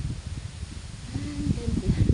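Strong wind rushes and rustles through tree leaves outdoors in a steady, close, breathy wash, with faint indistinct sounds over it.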